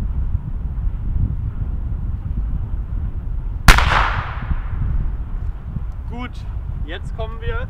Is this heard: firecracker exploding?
yes